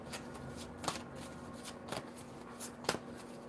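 Oracle cards being shuffled by hand, soft rhythmic riffling bursts repeating about once a second, close and quiet, with no talking.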